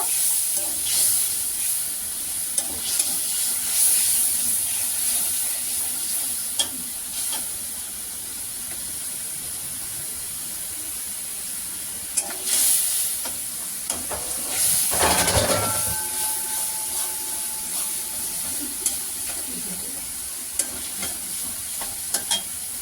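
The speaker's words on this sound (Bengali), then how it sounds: "এবার আদা বাটা, জিরে বাটা আর একটু লঙ্কার গুঁড়ো দিয়ে মশলাটা কষিয়ে নেব।" Ginger paste, cumin paste and chilli powder frying in a pan for a Bengali potol dorma give a steady sizzle and hiss, with bursts of stirring and scraping and one loud spitting surge midway.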